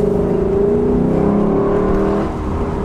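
A 2021 Lexus LC 500 Convertible engine pulling under acceleration, a loud, close, continuous growl with its pitch climbing steadily, then easing slightly toward the end, no talk.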